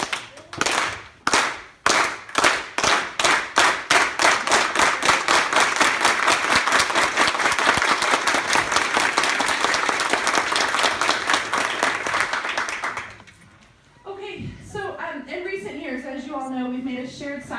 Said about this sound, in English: Do a quick hand clap before we get started?